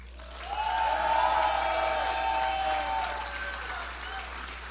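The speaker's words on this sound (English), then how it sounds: "please give these outstanding leaders a well-deserved round of applause, which you've already done" An audience at an inaugural night gala claps warmly for outstanding leaders, a sustained round of applause that swells and then slowly tapers off.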